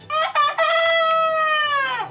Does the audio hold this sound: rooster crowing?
yes